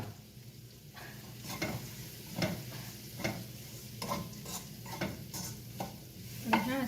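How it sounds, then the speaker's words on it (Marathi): Onion fries in a pan over medium gas for lehsuni palak, a soft steady sizzle broken by repeated scraping stirs of a utensil against the pan, close and fairly quiet, with no talking. "म्हणून हा कांदा चांगला शिजून घ्यायचा जरा मीडियम गॅसवर"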